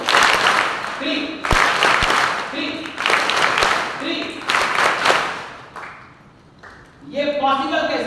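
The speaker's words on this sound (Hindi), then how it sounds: "मैं चाहता हूं जोरदार ताली नरेंद्र मोदी के लिए होनी चाहिए।" An audience at a university lecture claps in loud repeated bursts of applause, separated by short pauses, with a voice heard between the rounds.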